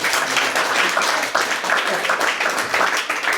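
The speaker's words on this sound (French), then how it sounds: "Alors, les applaudissements, vous avez le droit" An audience at a French improv comedy show claps throughout, dense and sustained applause filling the room with no pauses.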